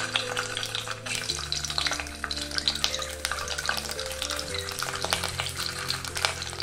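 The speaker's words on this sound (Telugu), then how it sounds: "ఇందులోకి గుడ్లను వేసుకొని ఫ్రై చేసుకోవాలి।" Eggs frying in half a spoon of oil in a kadai give a steady, close sizzle with crackling spits and occasional stirring scrapes, heard alone without voices.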